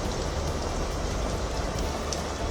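Heavy monsoon rain pours down in Mumbai, a dense, constant hiss of falling water, steady and fairly close with no voices.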